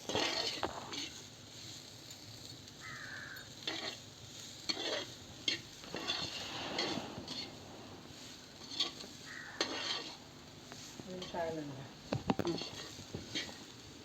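Tender jackfruit (idichakka) is stir-fried in a pan, giving soft sizzling with scraping and stirring strokes and occasional clinks of a utensil against the pan, while people talk intermittently.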